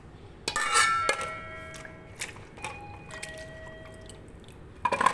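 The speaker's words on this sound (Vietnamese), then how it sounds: "Mình sẽ cho khoai lang vào nồi." Sweet potatoes are placed into a cooking pot for boiling, giving several bright metallic clinks and ringing knocks spaced by quiet pauses, close by, with no talking.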